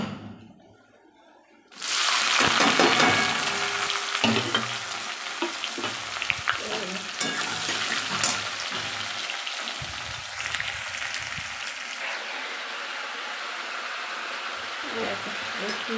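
Onion dropped into hot oil with bay leaf, dried chilli and panch phoron bursts into a loud, steady sizzle after a quiet opening second, with spatula scrapes and stirring knocking through the frying.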